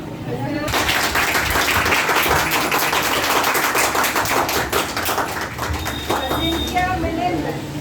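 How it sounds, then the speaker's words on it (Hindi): Dense, sustained clapping from a crowd honouring children receiving certificates, steady and loud throughout with some voices mixed in. "तालियां बजाओ भाई,"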